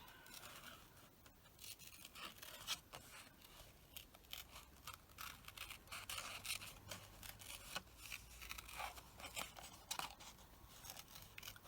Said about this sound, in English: Just going to go around the outline because I just want to cut this out.